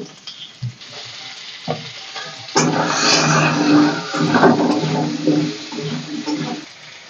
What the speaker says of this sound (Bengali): এটাকে একটু লবণ হলুদ দিয়ে আমি ভেজে নেব।